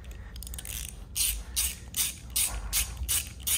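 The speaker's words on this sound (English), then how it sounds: "use a torque wrench, because you don't want to snap these off into the block." A torque wrench tightens bolts into a Cadillac Escalade engine block, giving a series of about six crisp ratcheting clicks in quick bursts, close and fairly loud with no talk.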